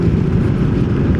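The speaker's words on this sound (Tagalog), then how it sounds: "Ito, pipitin lang yung throttle." A Yamaha NMAX TechMax 155 scooter engine revs as the throttle is twisted, giving a loud, steady low rumble that stays close and continuous with no talk over it.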